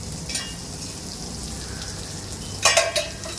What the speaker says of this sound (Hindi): और इसको भी अच्छे तरीके से भून लेंगे फ्राई पैन के ऊपर। प्याज को इसी तरह भून लेना है आपको अच्छे से।